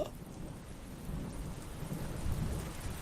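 Rain falls as a steady, soft broadband hiss with a low rumble beneath it, continuous and fairly faint, with no voices.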